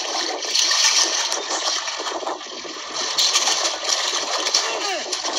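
Water pours steadily in a loud, continuous rushing gush that lasts several seconds, close by, with no clear voices over it.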